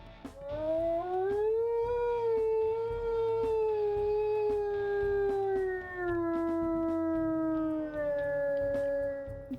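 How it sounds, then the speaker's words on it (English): Wolf howls from the video game WolfQuest Wayfinders: one long, smooth, sustained howl with a rising then gently falling tone, clear and alone, followed by a second howl that starts a little lower. "We'll listen to her howls here."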